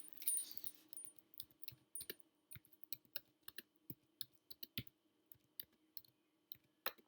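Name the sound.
typing on a keyboard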